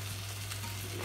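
Two slices of bread toasting in a pan for a tomato sandwich, giving a soft, steady sizzle with a faint low hum underneath, quiet and unbroken, with no talking.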